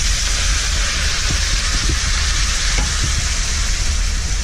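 Pad thai sauce is stirred into a sizzling pan, giving a dense, continuous frying hiss with faint scraping stirs underneath, close and loud, with no voices.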